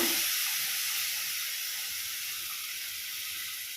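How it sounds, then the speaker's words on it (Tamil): Tamarind water hits hot kara kulambu with a mochai bean base and sizzles in a steady, loud hiss that eases off only slightly over several seconds, with no voices. "இப்போ நான் புளி தண்ணி ஆட் பண்ணுறேன்"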